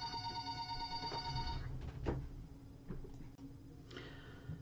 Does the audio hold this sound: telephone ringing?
yes